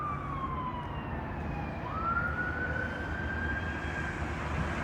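Emergency vehicle siren on a street in Kansas City, Independence, Missouri, wailing with a long rising and falling tone at moderate distance over a steady wash of background traffic and street noise, no one speaking.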